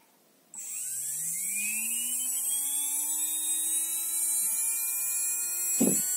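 An X Team 3660 3180KV brushless motor spins up from rest on a motor analyzer, its high whine rising in pitch over a couple of seconds and then holding steady and close, ending with a short knock.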